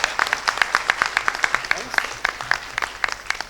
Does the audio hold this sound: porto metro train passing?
no